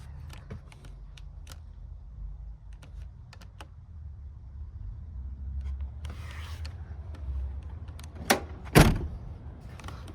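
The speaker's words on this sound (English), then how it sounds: "All the doors open and close really nicely." Doors on a 1999 Land Rover Defender 110 Td5 being worked, with a low rumble throughout and a sharp latching clunk followed by a louder slam near the end, close by and with no talking.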